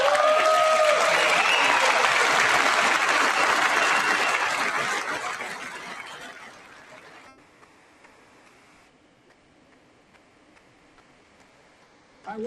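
Crowd in the chamber at the State of the Union applauds, loud and dense at first, then fading over several seconds into near silence.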